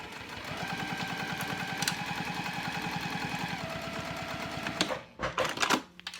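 A sewing machine stitches down a cork zipper sandwich, cork side up, in a steady rapid run of needle strokes for about five seconds. The run stops abruptly, followed by a few handling clatters.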